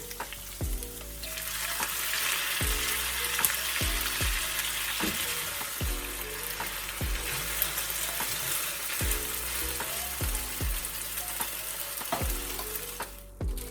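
Jjapaguri noodles fry in a pan with a loud, steady sizzle, broken by a series of regular scraping stirs against the pan throughout.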